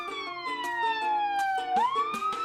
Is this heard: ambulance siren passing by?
yes